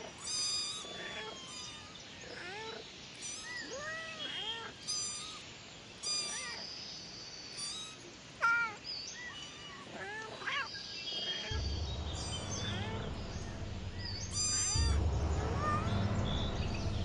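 Several fluffy kittens mew in high, repeated cries through the first ten seconds or so, then a low droning sound swells beneath as the meowing thins out.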